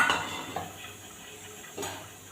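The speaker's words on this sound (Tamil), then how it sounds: "ஒரு கப் அளவு துவரம் பருப்பு அதில் சேர்த்துக்குவோம்" Dry toor dal tipped into a hot, oil-free pan, giving a quick scatter of hard little clicks and rattles, then a second softer patter of grains on metal, close and fairly quiet with no voices.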